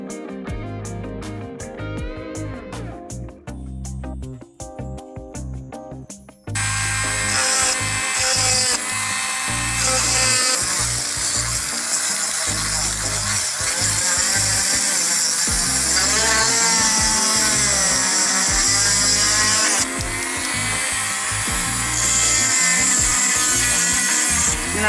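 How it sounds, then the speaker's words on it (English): A power drill whirs loudly and continuously into a seashell, with grinding changes in pitch, after a few seconds of quieter clicking and scraping. "drilling holes is just a matter of putting the drill onto it"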